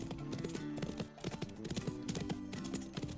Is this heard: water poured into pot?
no